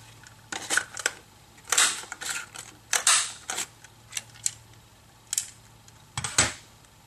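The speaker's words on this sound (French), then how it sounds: "Maintenant je vais faire mes découpes en forme de nuage. Donc dans du papier embossé." Scissors snip cloud shapes out of embossed paper at close range, a series of sharp crisp cuts in uneven bursts with brief pauses between them.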